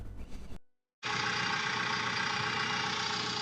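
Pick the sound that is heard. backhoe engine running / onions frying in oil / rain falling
backhoe engine running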